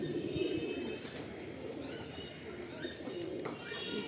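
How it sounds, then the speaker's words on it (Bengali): Pigeons coo softly in repeated low murmurs, close by, with faint chirps from other birds in the background. "মানে পায়রা দুটো এত সুন্দর পায়রা।"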